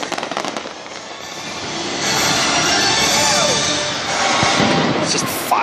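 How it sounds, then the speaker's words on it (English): Closing fireworks show at Magic Kingdom heard from far back in the crowd, a dense run of crackling bursts and booming pops that swells after the first couple of seconds and stays loud, with a brief voice near the start. "closing fireworks show"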